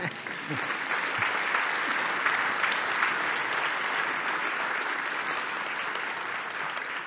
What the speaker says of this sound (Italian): non è vietato applaudire ogni tanto